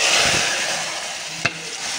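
Hot tempering poured into drumstick lentil soup in a home kitchen, a continuous hiss of sizzling with a faint scrape near the start and a single sharp clink of a utensil.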